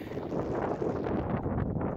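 Wind buffets a microphone outdoors at a house build site. It gives a short, steady, fairly soft rumbling gust with no voices over it.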